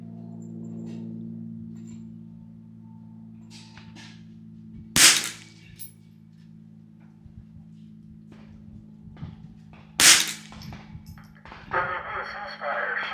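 Two sharp rifle reports from a 10/22 firing CCI standard velocity .22 ammunition ring out about five seconds apart on an outdoor range, each with a short decay, over a steady low hum and scattered movement noises.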